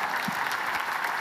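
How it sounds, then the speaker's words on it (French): A conference audience claps at a keynote, a brief burst of dense, steady applause filling the room with no voices over it. "Je pense que vous pouvez vous applaudir."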